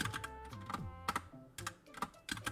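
Rapid keystrokes on a computer keyboard while code is typed into a Roblox Studio script, a dense run of close, clicky taps with short pauses between bursts, alone without talk.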